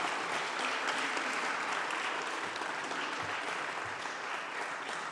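A dense, even wash of applause comes from an audience at a management school event, steady and moderately loud throughout without a pause.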